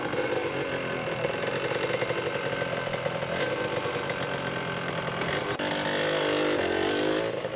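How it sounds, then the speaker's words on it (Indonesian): Used Honda NSR 150 two-stroke motorcycle engine with a worn piston, revving loudly and continuously at close range with a harsh, buzzy rasp, pitch climbing toward the end. "Gua mau nyobain motor."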